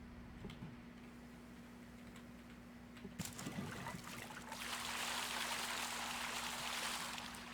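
Water in the video game Raft flows down through a structure at Caravan Town, a faint trickle that swells into a steady broad rush over the last few seconds, with a light tick or two early on.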